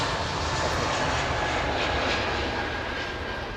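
Jet airliner engine roaring at London Heathrow Airport, a steady, loud broadband rumble and whoosh with a faint high whine, sustained throughout without pause.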